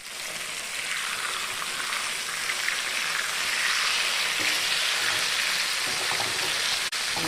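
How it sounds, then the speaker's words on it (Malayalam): Food frying in hot oil on a home stove, a steady bright sizzle and crackle running without a break, with a faint clink near the end. "മറ്റു കുറേശ്ശെ ഫ്രൈ ചെയ്യാൻ എണ്ണയിലിട്ടിട്ടുണ്ട്"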